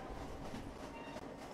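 A train at a station in the Roblox-style game Jailbreak, heard as a steady rolling rumble with faint clickety-clack, continuous and fairly quiet throughout the short stretch.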